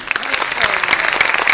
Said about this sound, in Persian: تشویق جانانه